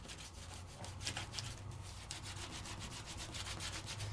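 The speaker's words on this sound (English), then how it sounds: "now that I've got it on and I'm giving it a nice rub, I really want to give it a good rub" Popsicle stick rubbed firmly over a decor transfer on paper, a dry scratchy rasp in quick repeated back-and-forth strokes, close and fairly quiet, with no voices.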